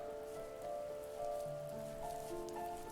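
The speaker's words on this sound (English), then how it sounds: "The rain cascaded onto the Jade Valley where the entrance to the tree was." Rain pours onto a valley in the video game The First Tree. It is a steady pattering hiss beneath soft, drawn-out musical tones, with no speech.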